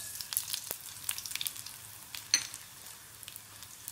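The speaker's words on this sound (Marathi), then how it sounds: "राई तडतडेपर्यंत" Mustard seeds splutter in hot oil with garlic in a pan while tempering for a pale bhaji, giving a quiet, steady sizzle broken by scattered sharp pops and crackles, close by and without talk.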